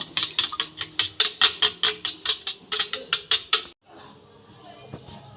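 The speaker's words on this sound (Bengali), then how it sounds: "ডিমটাকে ভালো করে ফাটিয়ে নেব" An egg with a pinch of turmeric and a little salt is beaten in a bowl for an omelette curry, giving a fast, steady run of close whisking taps that stop abruptly, followed by faint kitchen clatter.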